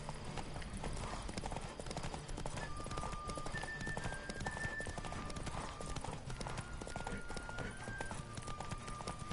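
Horse hooves gallop in a fast, steady clip-clop on the road in The Witcher 3, blended with rushing wind, game music and a brief whinny, continuous and moderately loud throughout.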